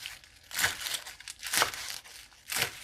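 A knife slices through stalks of rainbow Swiss chard in three separate strokes, each a close, crisp crackling rasp with quiet gaps between them.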